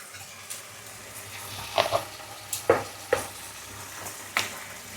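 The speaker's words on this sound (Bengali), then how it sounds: "আর 1 চামচ লবণ দিয়ে এটা ভালো করে নাড়াচাড়া হচ্ছে" Turmeric, chili powder and salt stirred in hot mustard oil for a Bengali pabda fish curry: a continuous soft sizzle broken by several sharp scrapes and taps of a spoon against the pan, with no talking.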